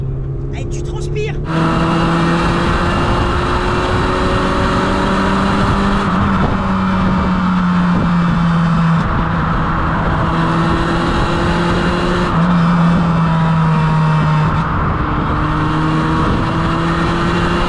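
A small petrol engine in a Peugeot 106 Rallye drones loudly from inside the car, rising in pitch as it revs through gears, with people talking over it.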